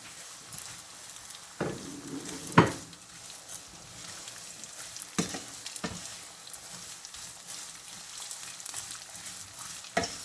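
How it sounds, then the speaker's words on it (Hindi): A whole packet of vermicelli frying in a pan for sweet seviyan, a quiet soft sizzle punctuated by a few sharp stirring clinks and scrapes, close and without talk. "पूरा पैकेट है सवैयों का, ये मैं इसमें ऐड कर रही हूँ। इसको हम अच्छी तरह से फ्राई कर लेंगे।"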